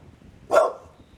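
One dog gives a single short bark, fairly close and clear over a quiet background of low rumble, while a wooden table is being sanded outdoors.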